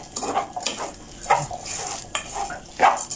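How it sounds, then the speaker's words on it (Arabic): A spoon scrapes and knocks around a pot while rice and spices are stirred, making irregular clinks and rustles close up, with no talking. "هقلب بقى كل ده كويس قوي"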